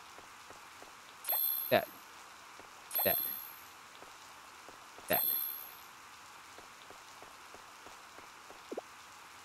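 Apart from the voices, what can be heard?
rain falling in Harvest Moon: Light of Hope video game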